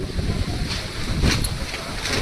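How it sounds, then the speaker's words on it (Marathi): Strong wind blows outdoors, roaring and buffeting against the microphone in a constant rough rumble with no voices. "फुल वारा सुटलाय फुल."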